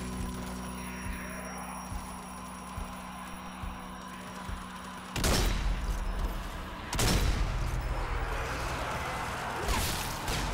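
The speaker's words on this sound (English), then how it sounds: "Grenade!" A grenade explosion in Zombie Army 4: Dead War, a zoo level, heard as a sudden loud blast mid-clip followed by another heavy boom and gunfire over a droning game background.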